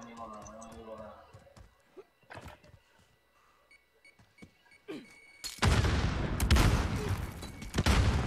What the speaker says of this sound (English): this is my favorite shotgun